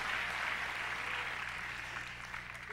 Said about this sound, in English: Clap your hands and thank God.